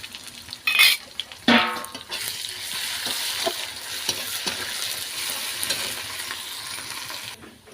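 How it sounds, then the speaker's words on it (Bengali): Garlic is added to browned onions frying in a pan and stirred in. Two sharp metallic clatters come early, then a steady sizzle continues under repeated spatula scrapes against the pan, with no voices. "পেঁয়াজ লাল লাল ভাজা হয়ে গেছে, এবার আমি রসুন দিয়ে দিলাম।"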